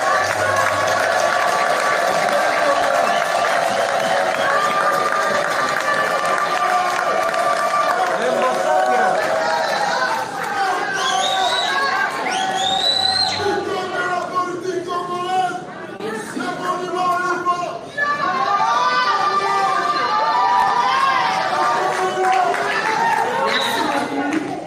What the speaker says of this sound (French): s'il vous plaît, sous vos applaudissements.